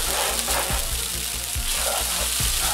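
Instant noodles frying in a pan until crispy, a steady loud sizzle with crackling pops throughout and no talking.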